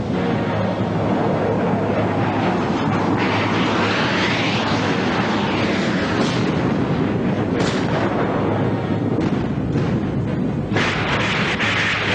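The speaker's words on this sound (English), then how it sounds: "A daylight naval assault along the Baltic coast of West Germany, backed up by heavy Soviet bombing." Heavy Soviet bombing backing a daylight naval assault on the Baltic coast: a continuous, dense roar of explosions and rumbling blasts with aircraft-like noise layered through, loud and sustained, no voices.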